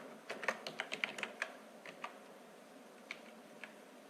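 Soft, quick keystrokes on a computer keyboard while typing in MS Word, a burst of rapid taps followed by a few scattered presses, faint and close with no talking.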